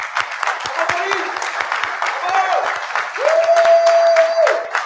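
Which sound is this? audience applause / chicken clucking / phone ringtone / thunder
audience applause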